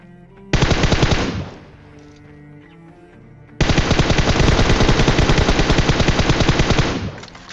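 Sustained automatic gunfire from a battle royale video game: a long rapid burst, a quieter lull, then a second extended burst of dense, loud shots at close range, with no talk over it.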